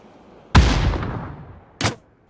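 Two gunshots from PUBG on the Miramar map, a loud crack with a long rolling echo followed about a second later by a shorter, sharper shot, with no talking.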